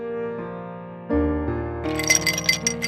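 Ice cubes clink against a container in a dating video game, a few bright, sharp glassy taps rising above a soft sustained musical background.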